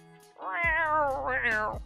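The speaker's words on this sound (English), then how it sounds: "it pisses off Dexter, the cat" A pet cat gives a loud, drawn-out meow with a rising and falling pitch, close by and clear, lasting about a second and a half over a quiet room.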